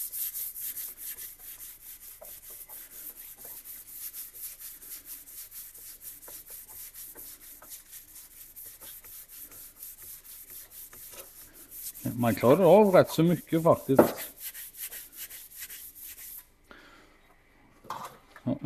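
Sandpaper is rubbed by hand over the body of a 1965 Volvo Amazon car, a steady scratchy rasp that surges into loud vigorous strokes near the end. Someone speaks briefly over it.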